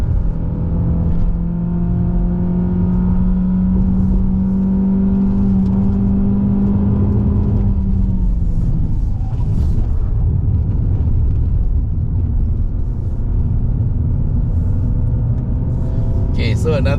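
A 2.0L Mazda 3 sedan climbs a Genting mountain road, engine droning steadily with a sustained tone that drops as it shifts midway, over constant road and tire rumble inside the cabin.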